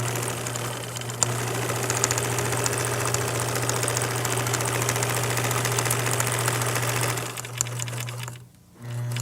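A sewing machine hums steadily and loudly while sewing up the side of a shoe bag after pivoting at a corner, then slows and stops near the end.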